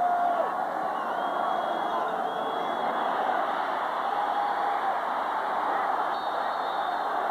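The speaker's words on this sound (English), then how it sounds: "Crowd hooting for grounding" A large stadium crowd at a 1990 USC versus Ohio State college football game hoots and roars in a steady, distant wash of massed voices, sustained throughout with no clear individual words.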